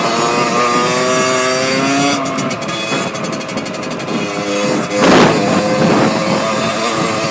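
A Beta 50cc enduro motorcycle's small two-stroke engine buzzes loudly and close, holding a high whining rev with rising and falling pitch and a sharper burst of throttle near the end.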